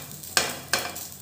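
Green chillies for masala mirchi stirred in a dry pan without oil, giving two soft scraping, sizzling strokes that stand out over a quiet, steady hiss.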